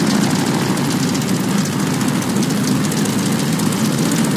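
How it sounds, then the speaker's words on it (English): A propeller aircraft engine in Call of Duty Vanguard, set at Midway in 1942, runs up to a loud, steady drone that holds unbroken throughout with no talk over it. "All right, do an engine run-up."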